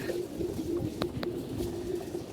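Pigeons coo in a steady, close, low rumbling run, with a couple of brief sharper calls partway through and no talk over them.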